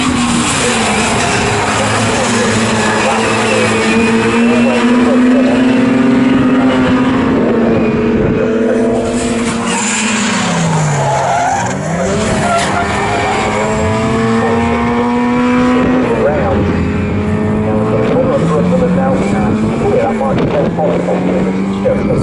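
Mini Seven and Mini 7 S class race cars racing at Snetterton, engines loud and close with rising and falling revs as cars pass, while a commentator talks over the racing noise.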